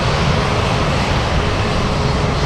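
A Boeing 747 Dreamlifter roars loudly on takeoff at Anchorage, its broadband jet-engine rumble steady, dense and close throughout with no pauses.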